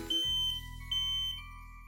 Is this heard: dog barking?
no